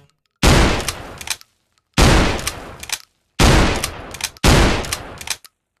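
An airsoft-model gun in a VR sports-mode shooting game fires four loud, close, evenly spaced bursts of rapid gunfire, each lasting about a second, separated by short silences.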